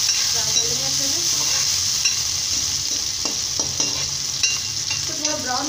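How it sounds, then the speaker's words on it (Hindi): Chopped onions sizzle in a hot pan for a restaurant-style aloo gobi, with a steady frying hiss broken by repeated spoon scrapes and stirring clatter, close and continuous without speech. "प्याज को थोड़ा ब्राउन होने तक हम फ्राई कर लेंगे अच्छे से।"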